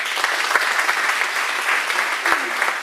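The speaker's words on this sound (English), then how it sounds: "Let's give the people on the question panel also a round of applause." An audience at a District 1 candidate forum applauds the question panel, a full, even wash of clapping with a few individual claps standing out.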